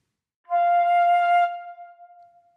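A flute head joint played alone with a right finger slid in to the second knuckle, giving one steady breathy tone about a second long with strong overtones, then a softer lingering tail.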